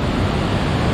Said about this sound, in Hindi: ओए ऊपर से पानी आ रहा है,